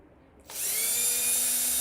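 A cordless drill driver spins up after a moment of quiet, its motor rising to a steady high whine while removing threaded screws from a coffee roaster popcorn popper being repaired, loud and close with no talk.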